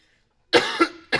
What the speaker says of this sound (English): And then I get like a coughing fit like that.